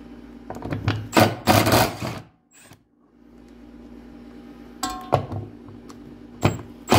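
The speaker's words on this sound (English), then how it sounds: "It's a 6mm Allen socket, and there's two bolts right down in the middle." Bolts on a BMW E46 330Ci battery tray are loosened with a 6mm Allen socket, giving several close, loud bursts of ratcheting and whirring separated by quieter pauses and clicks.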